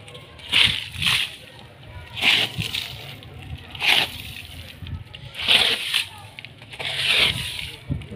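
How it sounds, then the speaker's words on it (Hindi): A floor wiper pushes water across the ground at a home gate, giving repeated sloshing, splashing strokes about once a second, close and fairly loud, with voices talking throughout. "इसी वाइपर से यानी पानी सुखा देना, हाँ ऐसे आगे फैला दो।"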